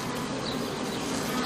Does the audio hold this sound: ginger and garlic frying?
no